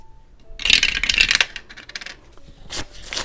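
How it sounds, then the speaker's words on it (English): Dice rattling and clattering onto a hard surface during a cash-stuffing savings challenge, a burst of bright clicks followed by scattered smaller taps and a final sharp knock. "I'm going to start rolling this dice"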